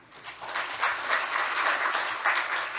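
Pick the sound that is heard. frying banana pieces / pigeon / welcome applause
welcome applause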